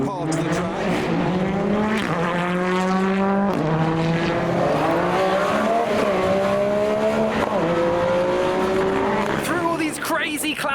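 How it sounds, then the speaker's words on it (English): Race cars scream around the circuit during endurance races at Silverstone, engines rising and falling in pitch as they shift through gears and pass one after another, loud and continuous, with a voice faintly present. "I think the endurance races are on at the moment on the circuit."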